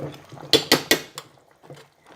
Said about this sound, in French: Je vais juste touiller un peu.